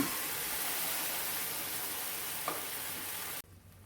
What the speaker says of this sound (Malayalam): കടുകിലും വെളിച്ചെണ്ണയിലും നമ്മുടെ മത്തങ്ങ ഒന്ന് നന്നായി മിക്സായി വരട്ടെ